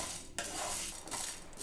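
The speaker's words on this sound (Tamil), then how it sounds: "இப்போ இது எல்லாமே dry roast பண்ணி எடுத்துக்கலாம்" Spices for mushroom biryani masala dry-roast in a pan, giving quiet metallic scrapes and dry rustling as a spoon stirs them, in a few short bursts with brief pauses between strokes.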